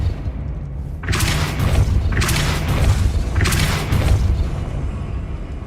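Three heavy booming blasts from a spell being cast in Hogwarts Legacy, each a loud whooshing burst with a low rumble, spaced about a second apart over a steady background hum.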